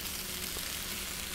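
Cabbage fries in the Cooking Simulator VR video game sizzle in a steady, hissing bed of hot oil, close and continuous with no speech.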